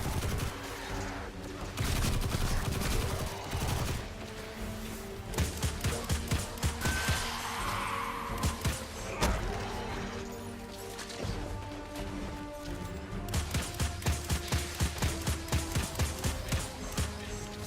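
Scout rifle gunfire in Destiny 2, fairly quiet rhythmic strings of rapid shots in several bursts amid game effects and impacts, with no talk.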